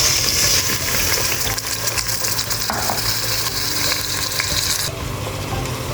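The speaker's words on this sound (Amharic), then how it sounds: "በዚህ መልክ ሩዙን በዘይቱ ጥብስ አደርገዋለሁ ማለት ነው።" Rice fries in hot oil with cloves and cardamom, a loud, continuous sizzle broken by scraping stirs. It carries on unbroken, close up, with no talking.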